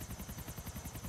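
A helicopter in the video game GTA IV, steady rapid rotor thumping with a whining turbine hum, loud and close throughout with no talking.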